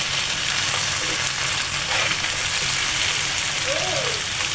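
French fries hiss and sizzle steadily in hot oil, with a dense, loud frying crackle that runs unbroken from start to finish and has no talk over it.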